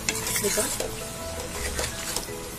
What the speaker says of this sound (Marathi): आपण चिकन छान परतून घेतलं